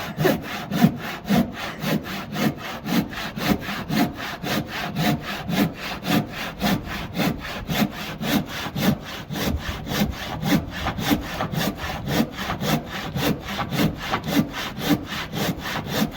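A handsaw rasps through wood held with a welly boot as a clamp, in a steady back-and-forth rhythm, dozens of even strokes, close and clear with no talking.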